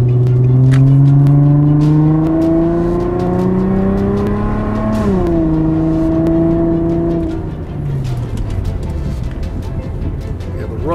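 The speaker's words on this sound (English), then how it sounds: "engine sounds tight." A 2006 Infiniti FX35 AWD engine while driving, a smooth rising drone climbing through gears with a shift dip midway, steady and fairly loud from inside the cabin.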